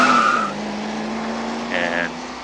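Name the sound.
car tire squeals, film sound effect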